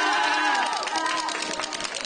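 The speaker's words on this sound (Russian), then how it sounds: "самые шумные в зале, болеют громко, совсем как на футбольном стадионе" A loud crowd of school supporters cheers and shouts in an indoor hall at the final of an intellectual quiz game, with voices rising and falling in a noisy, sustained din.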